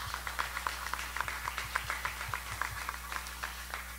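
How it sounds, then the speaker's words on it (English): Scattered, uneven clapping from an audience at a fathers' brunch event held by a public schools parents academy, fairly faint and sparse rather than a full roar of applause, with no talking. "Give yourself a big hand of applause."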